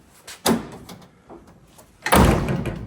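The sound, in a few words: 1981 Camaro Z28 car door being shut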